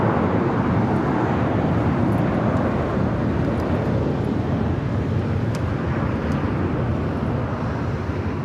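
An Air Tahiti Nui Boeing 777-300ER arriving at LAX from London Heathrow on the south side gives off a steady, broad jet roar that holds loud and unbroken throughout.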